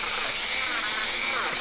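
A wire wheel on a power tool spins against a Corgi diecast Buick Riviera model. It gives a steady, loud, unbroken abrasive hiss throughout.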